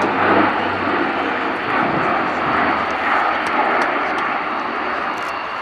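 An Airbus A400M Atlas military transport aircraft flies past at an airshow, a loud, steady broadband engine roar that holds throughout with little change, sounding somewhat distant and with no talk over it.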